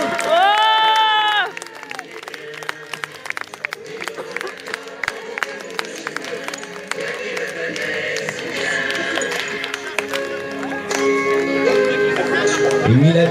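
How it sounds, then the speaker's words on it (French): Crowd applause and clapping at a dog agility event, steady scattered claps through the middle under voices and crowd noise, with cheering swelling near the end. "applaudissements pour Jésus et son chien"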